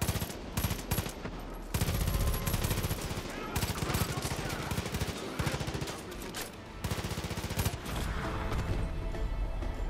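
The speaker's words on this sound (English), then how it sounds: "fireworks" Loud rapid bursts of explosive cracks and bangs from fireworks in a Far Cry 5 cutscene, dense and continuous with brief gaps, sounding close and sharp like gunfire.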